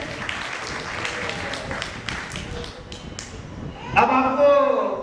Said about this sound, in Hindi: बजाई ताली बच्चों के लिए